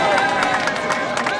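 A crowd of dozens cheers and claps around a small patch of dirt at the ground-laying of a new preschool, a dense continuous wash of voices and applause with no pauses.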